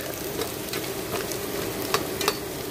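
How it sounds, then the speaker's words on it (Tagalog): Onions sautéing in a pan for a squash and string bean dish, a steady soft sizzle with occasional scraping clicks of a utensil stirring, close and fairly quiet, no talking. "haluin lang natin hanggang sa maluto ang ating sibuyas"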